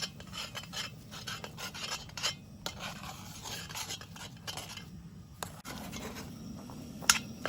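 A utensil scrapes and rubs against a pan while scrambled eggs with cheese are stirred on a camp stove, a close, irregular series of scratchy strokes with short pauses, no talking over it.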